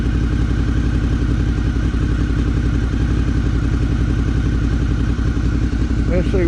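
A Suzuki V-Strom 650 motorcycle engine runs at a steady idle close by, a loud continuous clattering thrum with no change in pace; a brief voice cuts in at the very end.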